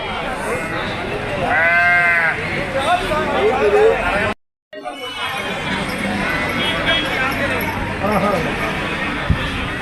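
Sheep bleat repeatedly amid a noisy crowd of talking people at a sheep market in Prakasam, Andhra Pradesh, loud and close, with a brief dropout in the middle.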